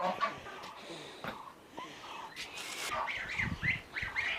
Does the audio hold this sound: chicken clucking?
yes